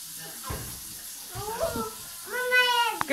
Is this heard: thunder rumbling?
no